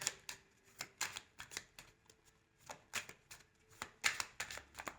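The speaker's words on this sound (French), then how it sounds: "je vais mettre une carte" Symbolon cards are handled on a table during a reading, a string of crisp close flicks and slaps of card against surface in quick uneven bursts, with no talking.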